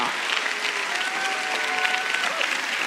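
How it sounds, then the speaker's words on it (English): A church congregation claps steadily in a dense, continuous wash of applause, with a few cheers and whoops rising over it. The sound stays close and fills the room for the full length without a break. "Not only do they clap, but you got some people that cheered"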